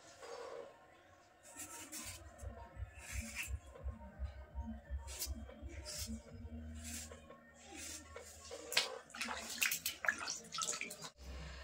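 Cut raw potato fingers for French fries are dropped into a bowl of water, giving quiet, irregular plops, splashes and light clatter that grow busier toward the end, close and without talk.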